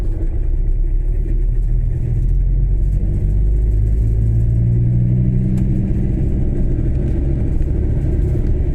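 Trucks on a road make a loud, continuous low engine rumble that drones steadily throughout, with no separate passes standing out and no voices.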